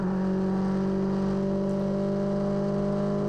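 A Mono 1600 single-seater race car engine pulls hard in fourth gear down the Brooklyn Straight at Silverstone, heard onboard as a loud, steady, buzzing drone with a rising whine and constant wind rush.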